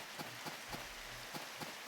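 Steady rain falls in a farming video game, a soft continuous hiss with faint scattered drop taps throughout, no voices over it.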